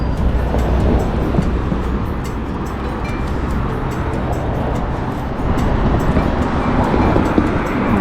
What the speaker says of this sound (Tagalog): maingay na yung kalsada